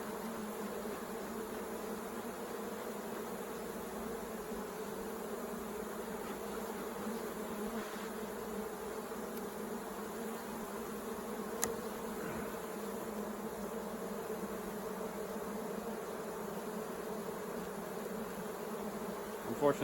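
Bees buzzing loudly and continuously in a dense, steady swarm as they are cleared out of a beehive, with a few faint knocks along the way.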